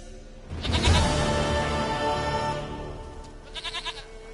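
A goat in The Witcher 3 lets out a loud, close bleat that trails into a wavering cry, followed by a shorter pulsing bleat near the end.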